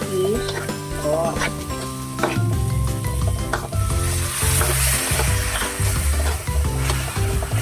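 Fish goes into a hot pan of oil and sizzles loudly and steadily, with stirring and spattering crackles, while music plays underneath.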